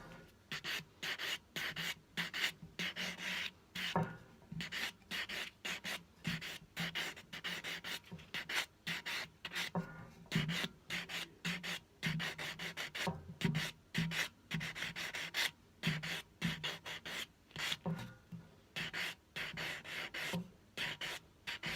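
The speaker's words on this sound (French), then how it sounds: "venir limer le dessus de l'ongle légèrement à l'aide d'un polissoir pour venir faire adhérer le vernis mieux" A nail buffer rubbed rapidly back and forth across the top of a fingernail, a close, steady rhythmic scratchy rasp of quick strokes running continuously without talk.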